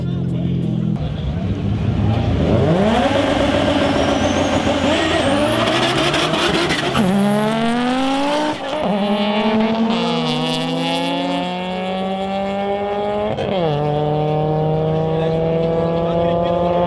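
Race cars at the Kondofrey street open event scream past at full throttle, engines climbing through rising revs with sharp gear changes and roaring loudly up close, while a commentator talks over the noise.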